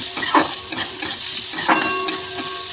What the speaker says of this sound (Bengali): পেঁয়াজ কুচি দিয়ে দিয়েছি, এবার একটু ভাজা ভাজা হোক